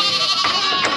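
A single short, close bleat from lambs and sheep in a lambing shed on a farm, loud and alone.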